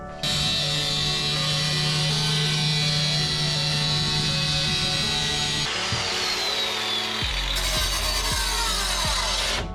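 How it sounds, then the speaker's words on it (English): A power tool, an angle grinder, trims timber for boat deck framing, running loud and steady with a constant whine that shifts pitch partway through as the cut changes, with no talking. "we'll get the angle grinder in here, and we'll just do some nice trimming"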